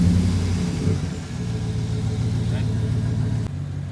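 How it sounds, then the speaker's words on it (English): A running car idles steadily with a low engine rumble, close by, while it serves as the charging vehicle for a jump start. "you begin by starting your vehicle of the running car"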